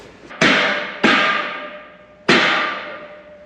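Three sharp hammer taps seat a part into place on a shed build, each strike loud and ringing before decaying, spaced unevenly over a few seconds with no talking.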